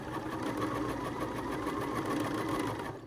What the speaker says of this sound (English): I'm gonna get started by taking a few stitches forward and then back stitching